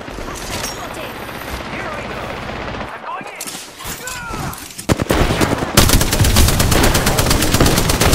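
Gunfire in the Apex Legends video game, dense bursts of automatic shots and impacts, loud and close, with a player talking over the action.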